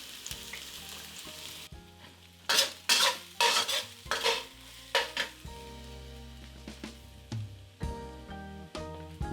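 Oil heats in a pan for a black pepper chicken stir fry, sizzling and crackling in loud close bursts, with a metal utensil clinking against the pan between them.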